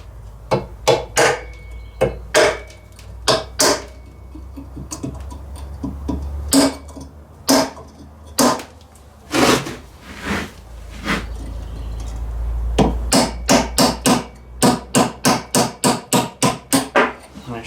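Hammer blows strike a flat punch to drive out a part while swapping the intake and exhaust manifold on a Ford 800: sharp metallic hits, irregular at first, then a fast, even series of close strikes near the end.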